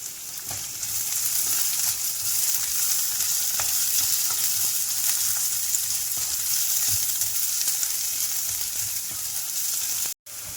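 Curry leaves hitting hot oil with garlic while making a special rasam, a steady loud crackling sizzle that runs continuously with faint stirring clicks, no voices.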